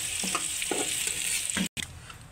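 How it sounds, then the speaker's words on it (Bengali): Potatoes frying in hot oil in a pan for a fish curry, a close, steady sizzle with short bursts of stirring scrapes and a brief dropout near the end. "এবার আলুগুলো লাল লাল করে ভাজার পালা"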